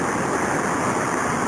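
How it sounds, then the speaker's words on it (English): River water flows steadily along a park trail in San Jose, a dense continuous close rush of broadband noise with no breaks. "And the water is flowing north"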